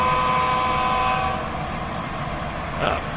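A model train rumbles steadily along the layout track with a faint whistle tone at first, continuous and close, with no voices.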